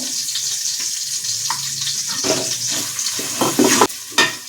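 Onion and green chillies fry in a pan, a steady close sizzle running throughout with a few louder stirring scrapes near the end and no talking.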